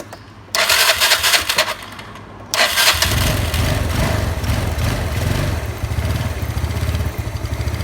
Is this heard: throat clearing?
no